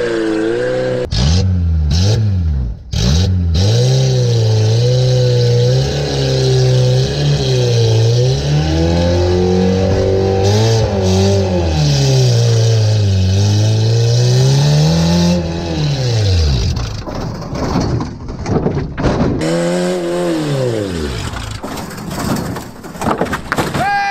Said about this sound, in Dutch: Nou, de gas blijft hangen. Hij schakelt niet meer.